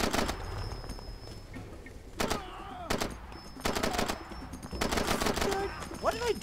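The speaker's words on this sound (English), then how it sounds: "Why are you shooting at me?" Enemy gunfire in Far Cry 2: repeated bursts of automatic rifle fire, loud and sharp, with shorter single shots between, set against outdoor ambience with faint bird calls.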